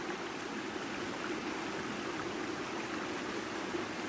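A flowing stream, a steady broadband rush of water that stays even and unbroken from start to finish, with no voices.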